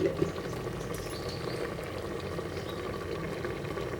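White stew bubbling at a steady boil in a pot, a continuous close, even simmering texture with no voices over it.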